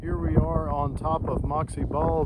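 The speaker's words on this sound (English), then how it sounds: "Sorry for the wind, it's just real windy up here." Gusty wind on a mountain top along the Appalachian Trail buffets the microphone in a low, rumbling roar beneath someone speaking close by, swelling and easing throughout.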